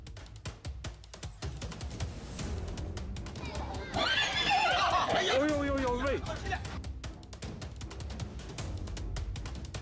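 A horse gives one loud, wavering neigh in the middle while a man ties a rope on it, with people chattering and clip-clopping hooves around it.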